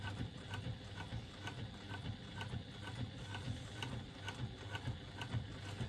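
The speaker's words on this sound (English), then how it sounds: "I'm just doing my second line of top stitching between that seam and between my seam and my first line of top stitching" Sewing machine running a steady, even line of topstitching across the back panel of a fabric bag, a continuous rapid mechanical whir and clatter with no talking.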